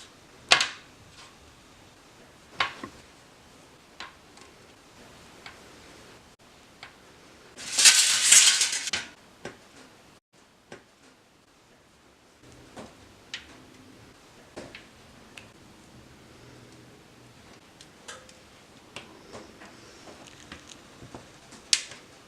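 Vegan cookie dough is pressed flat with a fork on metal baking sheets, giving scattered light taps and clinks of fork on pan at an irregular pace, with a brief louder rustle midway and no talking.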